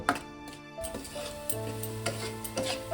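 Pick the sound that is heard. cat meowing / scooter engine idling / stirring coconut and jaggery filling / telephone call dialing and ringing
stirring coconut and jaggery filling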